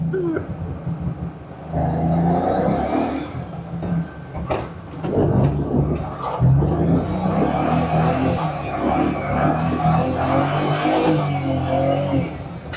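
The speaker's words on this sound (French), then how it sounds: "Et là, elle fait un bruit de V8." A BMW 335 running on a race track with a V8-like sound, its engine revving in a steady, loud, rough drone that rises and falls, heard close with some background noise.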